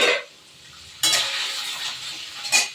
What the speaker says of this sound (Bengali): এবার আমি হালকা করে একটু পনিরটা ভেজে নেব